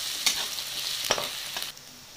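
Onions fry in a pan for an onion egg burji, a steady bright sizzle broken by a few scraping strokes of a spatula stirring, close up, with the sizzle cutting out near the end.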